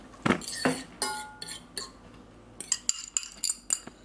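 Spoon clinks and scrapes against a bowl while fonio salad is mixed, a scatter of light irregular taps and chinks, close and fairly quiet, with no talk.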